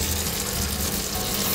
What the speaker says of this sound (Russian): Жарим сахар, мандарины, масло.